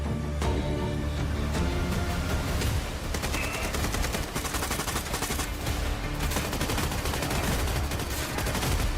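Rapid, continuous gunfire from many players in a dinosaur-world survival shooter game, dense bursts of automatic and single shots layered over game music, loud and sustained throughout.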